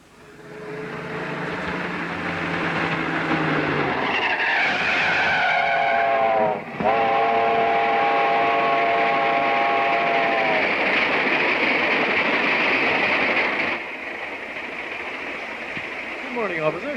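A 1930s train rumbles along the rails with a continuous roar, squealing, whining tones rising and falling over the steady noise, fairly close and loud throughout.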